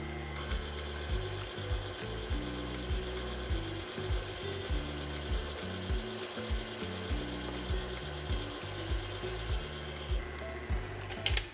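An electric mixer whirs steadily through cherry chocolate chip cake batter, a continuous close motor hum with faint rhythmic bumps as the beaters turn, and no talking.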